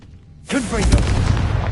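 A Confringo fire spell in Hogwarts Legacy bursts suddenly out of near silence into a loud, roaring blast with a crackling, whooshing tail that carries on to the end.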